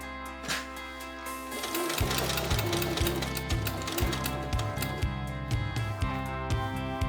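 A sewing machine stitches a small patch pocket with piping onto the front of a 70s-style denim jumpsuit, running in steady, rapid bursts of needle strokes that start after a short quiet lead-in and continue close and loud.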